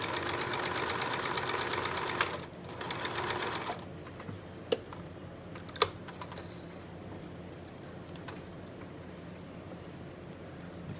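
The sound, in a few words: sewing machine stitching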